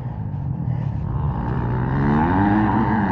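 A Honda 450 dirt bike engine revs steadily and loudly, its throttle rising toward the end, on a damp motocross track.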